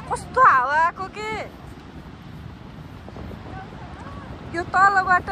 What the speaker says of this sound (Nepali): अबा कस्तो हावा आएको के